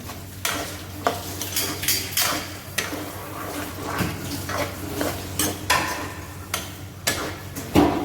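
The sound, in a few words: stirring sweet and sour fish sauce in a pan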